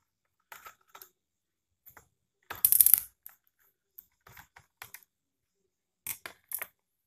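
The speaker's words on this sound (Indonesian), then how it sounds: "membongkar bagian bawah dengan melepaskan baut satu persatu" Bolts are removed one at a time from the underside of an Acer Z1402 laptop. Sparse, close metallic clicks and small rattles come in brief bursts separated by quiet gaps, with one longer scraping clatter midway.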